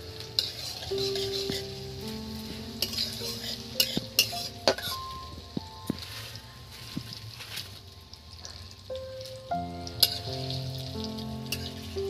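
Carrots frying over a high flame with cumin in a pan while Maggi is being cooked, a steady sizzle broken by clinks and scrapes of a spoon stirring against the pan.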